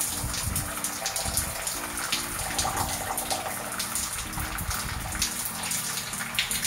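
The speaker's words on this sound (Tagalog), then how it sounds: "Oh, tapos na, ayan ang DIY shower." Water gushes steadily from a homemade shower built from a plastic bottle, a constant loud rushing spray running without a break, with a low irregular clatter underneath and no talking.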